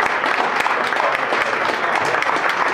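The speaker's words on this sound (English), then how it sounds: "Keep that round of applause going for Frank Sinclair," Audience applause for Frank Sinclair at a Colorado Springs business community event: dense, steady clapping from a crowd, sustained and fairly loud throughout with no talk.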